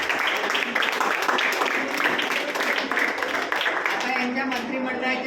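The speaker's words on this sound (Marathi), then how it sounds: "त्याच्यासाठी जोरदार टाळ्या" Applause for the winning Savitribai Phule panel at a school election, a dense steady wash of many hands clapping throughout at even loudness.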